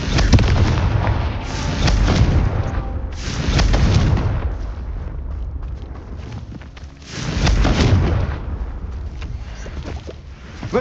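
Fire spells explode in an open-world Hogwarts Legacy game, sending out repeated heavy booms that swell and fade in several loud bursts over a rumbling background, with no talk.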